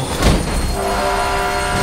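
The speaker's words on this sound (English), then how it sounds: "There's a train coming behind you, get the hell out of there." In the video game Mirror's Edge, a train thunders through a tunnel with a sharp rumbling burst followed by a sustained horn-like tone over continuous rolling noise, loud and close.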